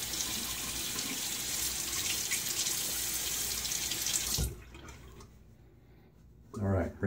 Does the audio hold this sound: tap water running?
yes